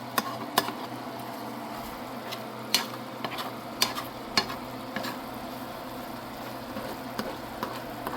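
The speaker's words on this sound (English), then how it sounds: "let me stir this up a little bit more" Food stirred in a pan as its juices cook down, a low steady sizzle broken by irregular sharp clicks and scrapes of a spoon against the pan, close and fairly quiet with no voices.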